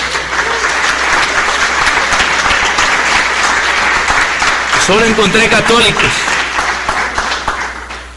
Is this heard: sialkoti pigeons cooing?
no